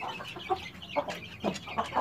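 A broody Bangkok hen clucks in a steady series of soft, close, throaty calls, repeating about every half second with no talking.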